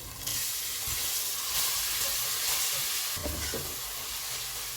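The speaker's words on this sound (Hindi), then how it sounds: "प्याज फ्राई हो गए हैं, इनमें अदरक और लहसुन का पेस्ट डालेंगे, इसको 1 मिनट तक भूनेंगे।" Ginger and garlic paste frying in a pan with golden-brown fried onions for an achari beef pulao, a steady soft sizzle and hiss throughout with a few faint stirring knocks and no talking.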